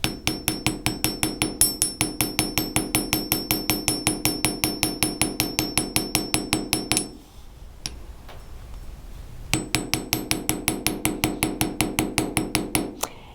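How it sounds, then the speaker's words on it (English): A riveting hammer's pointed back edge strikes metal wire to texture it, giving a fast, steady run of sharp metallic taps with a ringing tone, a brief pause midway, then the tapping resumes. "I'm hitting it with just that edge, that pointy edge of the back of the riveting hammer."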